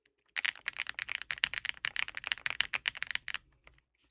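Typing on a budget Redragon mechanical keyboard fitted with Mint Mambo switches, a quick burst of crisp, fairly light clacks heard close and alone, trailing off into a few final keystrokes.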